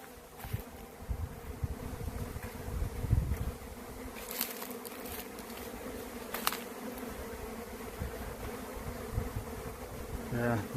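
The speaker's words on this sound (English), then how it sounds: "See if I can find the center of this tornado of bees." A dense buzzing of a killer bee swarm, constant and close, with occasional wind gusts and bumps against the microphone.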